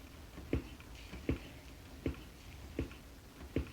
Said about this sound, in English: our trash can lid, which does kind of sound like a keg